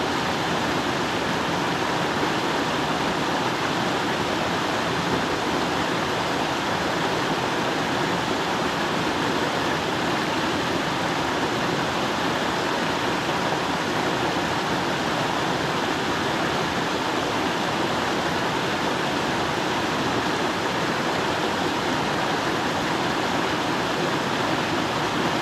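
A mountain creek in the Blue Ridge woods rushes steadily in a dense, unbroken wash of water noise, loud and close, with no voices and no change across the whole stretch.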